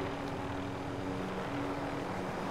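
A helicopter in a video game drones overhead, a faint steady rotor and engine hum with a constant low tone, with no talking.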